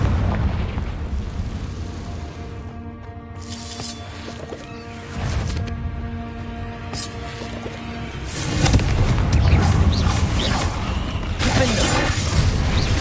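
Confringo blasting curses from Hogwarts Legacy burst in a few booming explosions, with heavier rumbling blasts in the later part alongside a steady tonal hum of game music.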